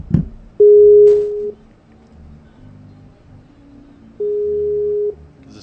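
Two long steady telephone ringback tones, each about a second, separated by a quiet gap with faint room noise; the call goes unanswered toward voicemail.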